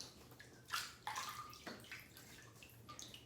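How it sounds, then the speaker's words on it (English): Water splashed onto a face by hand before a wet shave with a DE razor, a few quick wet splashes and dribbles from a basin, close and fairly quiet. "So let's wet the face."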